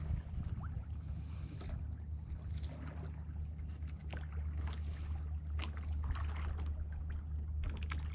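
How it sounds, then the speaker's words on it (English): A lobster boat's diesel engine drones steadily somewhere out in summer fog along the Maine coast, a low continuous hum beneath faint water splashes and small knocks aboard a sailboat. "That sounds like a lobster boat diesel I hear droning."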